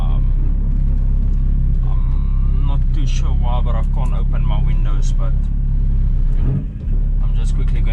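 Engine of a Volkswagen Polo rumbling steadily while driving, loud and close throughout, with a person talking over it.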